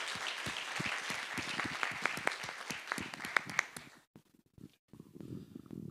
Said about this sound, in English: A big round of applause for our panelists, please.